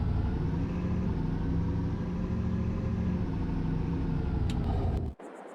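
Truck engine in the Farming Simulator video game, a steady loud rumbling drone that runs continuously, then cuts off abruptly near the end, leaving a low quiet hum, with no talking.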